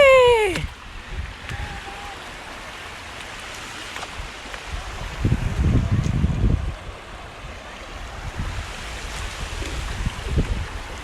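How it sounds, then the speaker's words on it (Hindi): A river in the Bolan area near Sibi flows steadily in the background, a soft continuous wash that swells louder for a few seconds midway, heard alone without voices. "सो गाइस अभी हम आ चुके हैं फाइनली रिवर पे"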